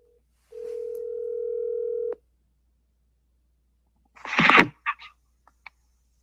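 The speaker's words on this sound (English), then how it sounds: "I'm phoning a friend." A telephone dial tone holds steady for about a second and a half, then cuts off, followed by a few brief rustling clicks while a call to a friend is placed.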